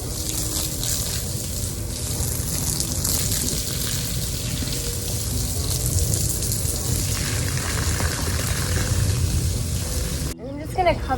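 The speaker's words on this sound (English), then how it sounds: "I'm gonna put water in there." Water pours steadily from a hose or container into a garden planting hole beside a pool, a continuous splashing rush lasting about ten seconds before cutting off abruptly, with a faint voice underneath.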